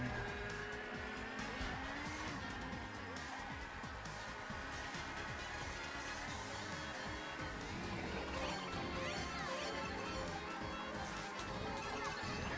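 Karts accelerating and racing in Mario Kart 8 Deluxe on Nintendo Switch, a steady dense engine drone with tire squeal and skidding mixed under game music, loud and continuous throughout.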